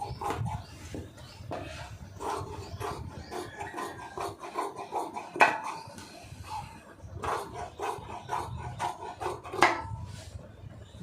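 Scissors cut through lining blouse fabric, a 48-inch blouse with sleeves, in a steady series of close, crisp snips with a few louder cuts, and no talking.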